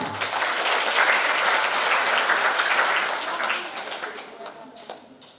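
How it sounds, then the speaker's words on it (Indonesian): Applause from an audience of teachers at a seminar, a dense burst of many hands clapping that holds steady for about three seconds and then thins out and fades. "Boleh aplaus untuk kita semua"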